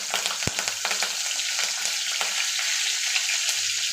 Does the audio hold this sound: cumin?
yes